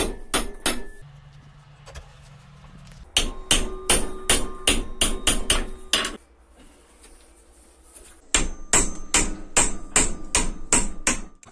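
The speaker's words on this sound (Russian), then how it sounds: "Зажимаю ее в тисках и при помощи молотка сгибаю." Bursts of loud, rapid hammer blows bending a metal plate clamped in a vise, ringing and clanging in quick runs separated by short quieter pauses.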